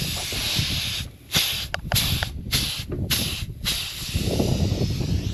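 Air hisses steadily from a leaking valve stem on a dry-rotted, plugged tire, a close, continuous broadband hiss broken by a few brief gaps, with no talking.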